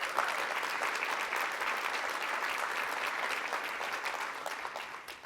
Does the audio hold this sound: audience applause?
yes